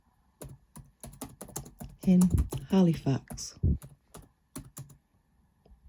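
Rapid clicks of typing on a computer keyboard, crisp separate keystrokes in an irregular rhythm, broken up by a short stretch of a person speaking.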